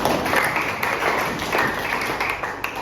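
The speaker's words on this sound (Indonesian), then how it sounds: "Tepuk tangan dong buat kalian bertiga." Students in a school classroom clap their hands together, giving a steady, fairly loud patter of applause that runs throughout with no talking over it.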